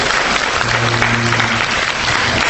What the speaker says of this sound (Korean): 기획자 여러분에게 다 같이 감사의 박수 부탁드립니다